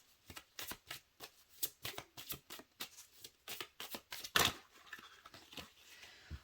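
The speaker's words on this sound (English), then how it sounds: "Let's get one more shuffle." A deck of tarot cards being shuffled by hand, a rapid series of crisp riffling flicks and slaps in irregular bursts, close and fairly quiet, with no talk.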